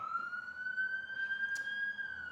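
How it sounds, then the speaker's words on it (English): An ambulance siren wails outside while passing by, a single steady rising and sustained tone heard faintly through the room with background hum. "Ambulance just went by."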